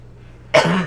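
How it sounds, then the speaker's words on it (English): A single sharp cough bursts out loudly after a near-silent lead-in, close and alone. "I'm going to start coughing again."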